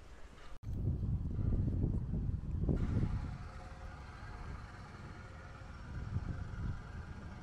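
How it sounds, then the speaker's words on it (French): Wind buffets the microphone in low rumbling gusts, stronger at first and then easing into a steadier, softer roar. "Un petit peu de vent quand même aujourd'hui."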